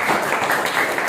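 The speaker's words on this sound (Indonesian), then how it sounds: "Beri tepuk tangan ya" Audience clapping after a presentation during a guidance and counseling teaching performance exam, a brief, fairly loud, steady patter of many hands with no voices.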